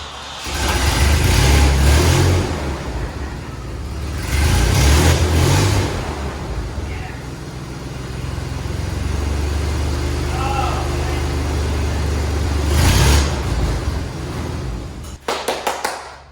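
A cheap budget 4x4 rat rod truck's engine cranks, starts and revs in several bursts, settling into a rough idle between, close and loud with voices speaking over parts of it.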